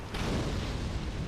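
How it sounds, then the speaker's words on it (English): A delayed explosion in the video game Dark Souls Remastered booms as a dense, sustained roar of deep rumble and hiss, filling the whole moment without voices. "The explosion was so delayed that I didn't think it was effective at all."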